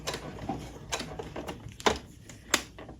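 A sewing machine stitching a back stitch and then forward again on a beginner phone pillow project, with short uneven mechanical clicks and whirs at close range and quiet pauses between bursts.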